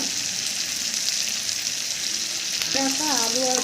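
Potatoes and peas sizzle steadily in rendered mutton fat for ghugni, a dense continuous frying hiss throughout, with a brief higher clinking or scraping sound near the end.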